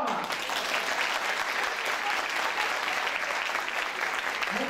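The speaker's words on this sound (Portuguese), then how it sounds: "Beleza, salva de palmas." Steady applause from a seminar audience on rural education, dense and even throughout with no pauses, loud and close.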